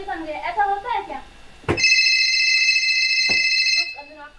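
A telephone rings in a stage play at a national theatre festival, one long steady electronic trill cutting in after a woman's speech. A sharp click comes partway through the ring, with more talk at the end.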